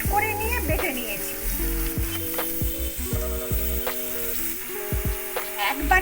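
Carrot paste fries with garlic paste in a pan, giving a steady close sizzle broken by scraping stirs and clacks of a utensil against the pan.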